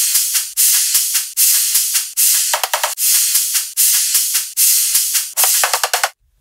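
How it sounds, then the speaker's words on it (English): Layered cymbal samples in a dubstep/riddim drop, loud bright crashes and rides hitting in a fast repeating rhythm with rapid stuttering hits and a short fill, no voices. "All together, the cymbals sound like this."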